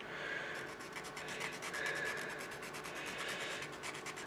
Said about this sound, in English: I'm spinning the oar while I'm sanding